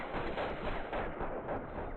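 Rapid automatic gunfire in Call of Duty: Modern Warfare, a dense continuous burst of shots with heavy booming low end, steady and loud throughout.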